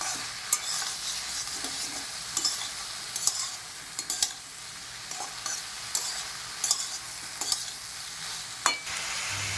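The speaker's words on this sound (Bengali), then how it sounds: "এবার আমি ভিজে রাখা চিংড়ি মাছগুলো দিয়ে দেব।" Water lily stems frying with soaked shrimp in a pan: a steady bright sizzle runs throughout, broken by repeated scraping stirs and spatula knocks, fairly close and with no talking.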